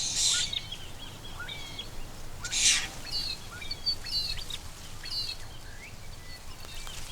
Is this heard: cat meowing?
no